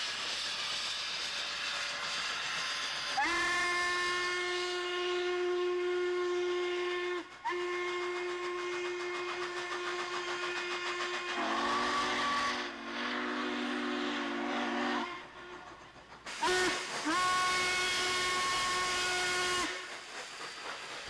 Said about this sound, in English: The high-pitched whistle is a classic trademark of the Norfolk and Western mighty steam locomotive.